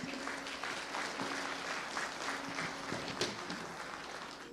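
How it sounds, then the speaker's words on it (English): An audience applauds at an arts and culture festival, the clapping soft and distant, spread evenly through the clip, with a faint tonal hum underneath and no voices. "Give yourself a round of applause for making it."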